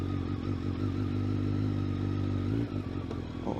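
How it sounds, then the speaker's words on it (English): A Kawasaki Ninja ZX12R motorcycle engine idles steadily up close with a low throbbing rumble and light mechanical clatter, a slight blip near the end. "I should definitely do a quick engine listen."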